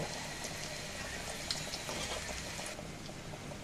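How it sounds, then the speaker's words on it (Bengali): Onions frying in a pan, a faint, even crackle and bubbling sizzle that continues steadily with no talking. "পেঁয়াজটা লাল করে ভেজে নেব"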